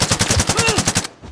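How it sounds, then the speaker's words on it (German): Rapid automatic gunfire in a video game, a fast even burst of close loud shots that stops abruptly after about a second. "Unter Beschuss. Ich werde hier beschossen."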